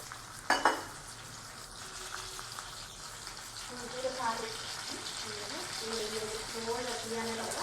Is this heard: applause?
no